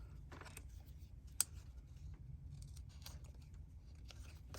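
Scissors trimming paper for a handmade double curtain card with an owl, giving several soft, close snips with one sharp cut standing out over a low steady background hum.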